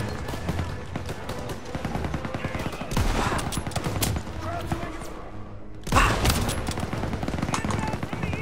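Heavy MG-42 machine-gun fire crackles in rapid bursts across a Call of Duty WW2 battlefield during Operation Cobra, with loud booms and shouted voices over the constant din of battle.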